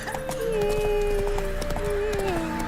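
Geralt's horse Roach gallops in The Witcher 3: Wild Hunt, a steady clip-clop of hooves running under a sustained musical drone and ambient background.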